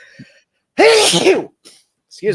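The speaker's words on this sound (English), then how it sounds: "hold on a second, I gotta sneeze." A single loud, sharp sneeze bursts out suddenly, preceded by a faint breath and followed by a brief spoken phrase.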